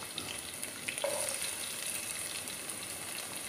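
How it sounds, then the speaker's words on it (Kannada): Onions frying in a little oil in a pan, a faint, steady sizzle with light crackles and a brief stirring scrape, fairly close and without talk. "ಮೊದಲು ಬಾಣಲಿಗೆ ಸ್ವಲ್ಪ ಎಣ್ಣೆ ಹಾಕಿ ಅದರಲ್ಲಿ ಈರುಳ್ಳಿಯನ್ನು ಚೆನ್ನಾಗಿ ಹುರ್ಕೊಳ್ಬೇಕು"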